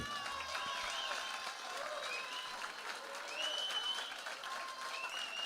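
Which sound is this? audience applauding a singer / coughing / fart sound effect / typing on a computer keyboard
audience applauding a singer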